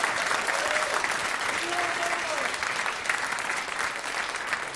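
A crowd at a live podcast taping in Brooklyn claps in a full, steady burst of applause for several seconds, with faint whistles and murmurs mixed into the noise.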